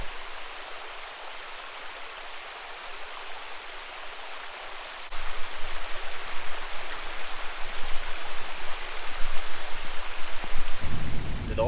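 Rain falling outdoors on Anticosti Island, Québec, a steady broadband wash of drops that grows noticeably heavier and louder about halfway through, with no voices.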